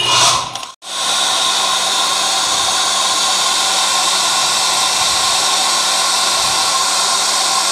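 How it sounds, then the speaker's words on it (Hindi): A hair dryer blows hot air to heat the aluminium pulsator bush of a washing machine, a loud steady whooshing hiss running continuously after a brief stutter as it switches on. "ये हमारे पास हेयर ड्रायर है, आप इसे गर्म कर सकते हैं"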